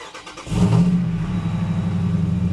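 Jeep engine starting to pull away, a low steady drone rising after a brief clatter, moderately close and without talk.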